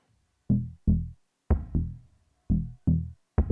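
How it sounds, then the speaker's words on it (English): A bass line loop plays on a Polyend Tracker: short, punchy low notes in a syncopated pattern, each decaying quickly into silence, clean and close with no voices. "The first loop is a bass line, and it sounds like this."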